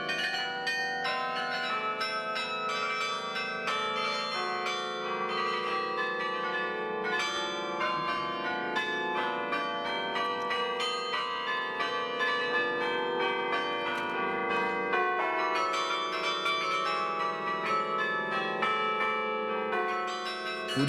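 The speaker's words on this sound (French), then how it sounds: "quelques notes émises par le carillon de la ville de Douai, qui comprend 62 cloches" The carillon of Douai, a town carillon of 62 bells, plays a continuous melodic run of overlapping, ringing bell notes, steady and moderately loud with no talking.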